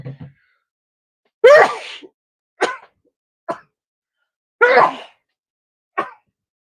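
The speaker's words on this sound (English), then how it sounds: "I gotta sneeze" A sharp sneeze bursts out, followed by a few shorter sniffs and a second loud sneeze, with silence between them.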